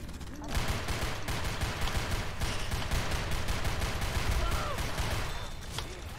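Continuous gunfire from a Half-Life/Left 4 Dead video game, dense rapid shots with booming low end running steadily throughout, with players' voices faintly mixed underneath.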